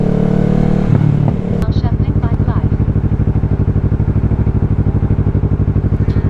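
A motorcycle riding through winter traffic in Spokane, its engine loud and close with a steady pulsing throb after a brief rev and clatter near the start.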